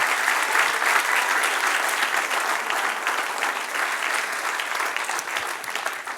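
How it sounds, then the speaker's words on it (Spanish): A church congregation claps steadily and loudly in sustained applause for several seconds, slowly tapering toward the end, with no voices over it. "Denle un aplauso al Señor."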